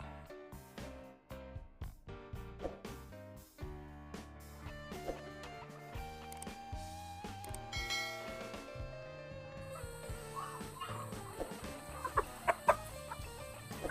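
Four-month-old chickens cluck repeatedly nearby, short clucks overlapping in an uneven rhythm with a faint ringing tone in the background.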